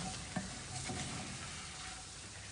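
Food being sautéed in ghee sizzles steadily in a pan, a dense continuous frying hiss with a faint stir and one soft knock early on, close and even, no voices.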